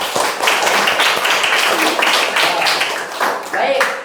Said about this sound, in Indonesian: Beri tepuk tangan dulu